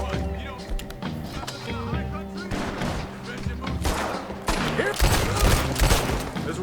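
Gunfire rings out in the Red Dead Redemption 2 video game, with several sharp shots and booming reports scattered over a busy background of game sound and music while people talk.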